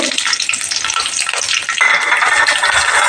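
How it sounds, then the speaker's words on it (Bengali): Dried chillies and black cumin seeds sizzle hard in hot oil, a loud, dense crackling fry heard up close that picks up a brighter hiss partway through, with no talking. "এবার এই তেলের ভেতরে শুকনো ঝাল আর কালো জিরে ফোড়নে দিয়ে দেব, আর কাঁচা ঝালগুলোও দিয়ে দেব।"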